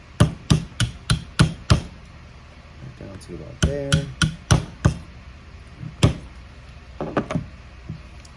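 A hand punch struck with a hammer knocks out pins, sounding as a run of sharp, close metallic blows in a steady rhythm, then scattered strikes while a voice talks briefly.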